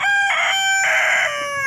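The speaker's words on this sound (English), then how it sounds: "he's a black copper Moran rooster" A black copper Maran rooster crows close by, one loud strained cock-a-doodle-doo in several sharp rising and falling segments, heard alone.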